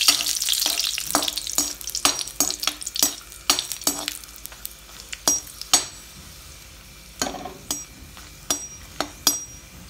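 Dried red chillies frying in a pan for curry leaf chutney, quick crackling pops and spoon clinks against the metal in irregular bursts, close, over a faint background sizzle with no talking.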